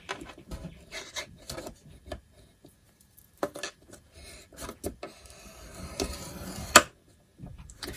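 Paper cardstock being scored on a scoring board for a candy heart box, a series of soft rubbing strokes and light taps with quiet pauses and one sharper click, no voices.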